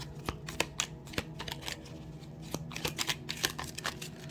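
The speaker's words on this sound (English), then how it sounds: "Let me shuffle one more time" Oracle cards are shuffled by hand in a quick series of soft riffling flicks and slaps, irregular in rhythm, close and quiet with no speech.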